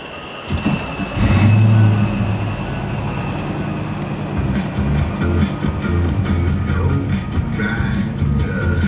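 A 1970 Camaro pro-touring show car with an all-aluminum LS1 V8 and six-speed manual cranks briefly and fires, settling into a loud, close, steady idle with a deep rumble.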